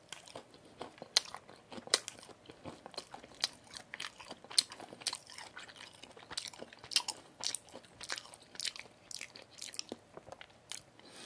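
Mom's Touch black soy chicken with rice cake being bitten and chewed up close, with crisp crunches coming in steady irregular bursts and no talking.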